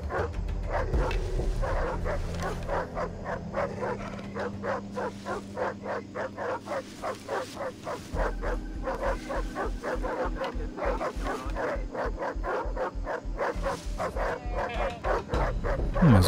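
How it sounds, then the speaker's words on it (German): Dogs bark repeatedly in the Far Cry 3 video game, a steady run of loud, closely spaced barks and yips from several animals over a low rumbling game background, going on without a break. "Die Hunde, die machen aber auch einen Lärm. Die bellen ja die ganze Zeit"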